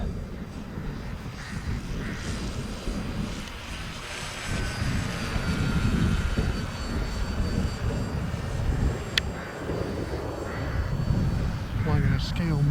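An FMS Focke-Wulf Fw 190 scale model airplane flying over trees on a windy day, its motor droning and rising and falling with wind buffeting, while people talk nearby.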